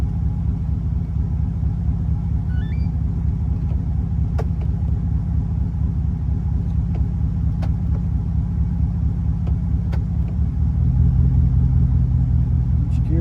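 A 2011 Chevrolet Silverado pickup truck engine idles with a steady low rumble, with faint clicks and a slight shift in tone near the end as it changes gear into reverse and park.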